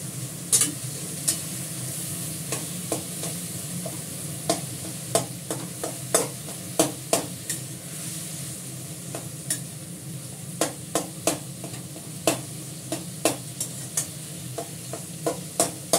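Leafy greens fry in oil in a pan, a constant close hiss of sizzling punctuated by frequent sharp clicks and taps of a spatula stirring, steady throughout with no speech.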